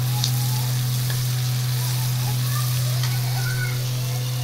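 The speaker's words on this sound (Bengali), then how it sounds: "পেঁয়াজটা ভাজা চলছে" Onions frying in a pan while making onion posto in a home kitchen, a steady close sizzle with light crackles and a constant low hum underneath, no talking.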